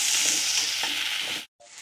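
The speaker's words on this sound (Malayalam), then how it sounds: "നമുക്ക് ഇതുപോലെ നന്നായിട്ട് ഇളക്കി കൊടുക്കണം" Loud hiss of onions frying in hot oil for prawn curry with scraping stir strokes, then a brief drop to near silence before the sizzle resumes.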